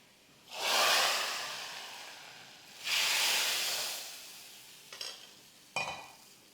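Onion tempering poured into sambar: two loud, close bursts of hissing sizzle fading away, followed by a couple of short metallic clinks of a pan or spoon, with no talk.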